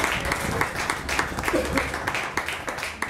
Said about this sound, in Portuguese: aplaude a Jesus, aleluia!